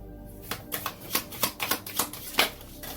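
Tarot cards handled and laid one over another on a reading surface, giving a series of close, crisp flicks and soft slaps at an irregular rhythm.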